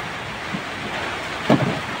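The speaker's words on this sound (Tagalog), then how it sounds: "Umuulan na, umuulan na." Steady outdoor rain hisses evenly on surfaces at a mechanic's workshop, with a brief low thud midway and no voices.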